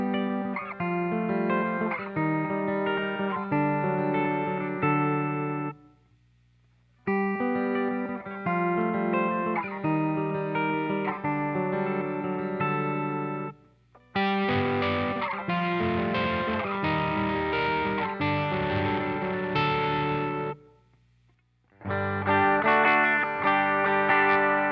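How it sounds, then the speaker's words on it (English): Electric guitar run through hard-clipping distortion plays loud, buzzy, sustained phrases in four separate passages, each broken by short pauses, with the third passage sounding harsher and brighter. "notice how the amount of distortion changes as the signal moves through the different clipping regions"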